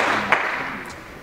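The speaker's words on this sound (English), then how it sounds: "you can clap for that." A student audience claps briefly for a student organization's president introducing himself, a dense, fairly even wash of hand claps lasting about a second and fading slightly.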